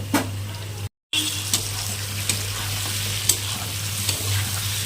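Mashed sweet pumpkin fries over raised heat in an uncovered pan, with a continuous sizzle and sharp, irregular scrapes of a spatula stirring close by, briefly cut to silence near the start.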